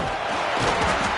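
A football stadium crowd at a Texas A&M game roars in a dense, loud wall of cheering and noise that keeps going for the whole moment.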